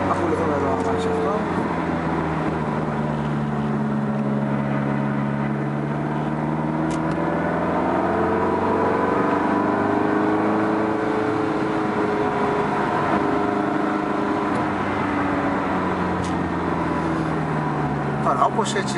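A Ferrari 360 Modena driving on the road, accelerating hard and shifting up into fifth and sixth gear, its engine note rising and dropping through the gear changes, steady and moderately loud, with someone talking over it.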